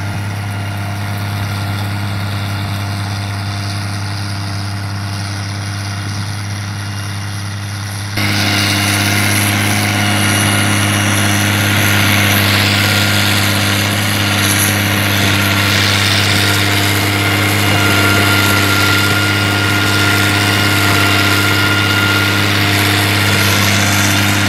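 A CBT 2600 tractor with 4,600 hours runs steadily, a loud close mechanical drone with a constant low hum that grows louder and harsher partway through as the engine revs up.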